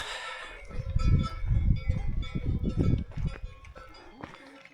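Cows are brought in at a refreshment stop on a long-distance crossing of Switzerland, with clanking cowbells and shuffling livestock close by, a busy jumble that thins out toward the end, plus faint voices.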